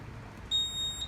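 A high electronic beep tone from an Edwards IO fire alarm panel entering mapping mode after a CC1 module replacement sounds briefly, then repeats after a short pause, over faint background hum.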